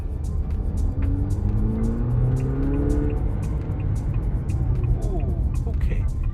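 A Haval H6 GT SUV accelerating, a steady engine drone rising in pitch under road and tyre noise from inside the cabin, with a voice speaking over part of it.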